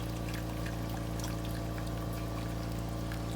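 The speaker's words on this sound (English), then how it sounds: "Okay, I'm going in right now with my slurry." Slurry is poured into a simmering pan of pepper steak with garlic and minced onion, making a continuous close pouring and bubbling sound over a steady low hum.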